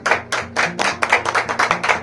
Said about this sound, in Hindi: जोरदार तालियों से मैम का धन्यवाद करेंगे हम